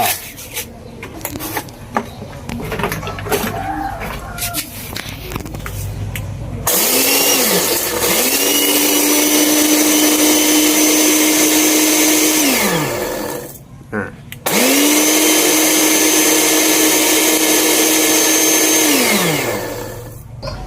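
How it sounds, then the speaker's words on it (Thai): A kitchen blender grinds eggshells, a loud steady whirring that drops out briefly partway through and then starts again, with scraping and rattling of the hard shell pieces throughout. "ด้วยความที่เปลือกไข่มันมีความแข็งนิดๆนะครับผม เวลาปั่นเนี่ยมันช่วยให้ มีใบมีดคมขึ้นนะครับผม"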